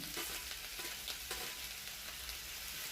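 Onion stalks sizzle steadily in a hot pan, a continuous crackling hiss with occasional sharper pops and light stirring scrapes, close and fairly quiet.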